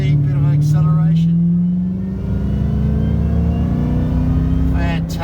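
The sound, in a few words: Ford FG XR8 StreetFighter SF800R car accelerating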